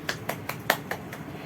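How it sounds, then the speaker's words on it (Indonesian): Children clap their hands in a primary school classroom, about seven sharp, evenly spaced claps in quick rhythm, close and fairly loud with no talking. "Boleh tepuk tangan dulu untuk Aisyah."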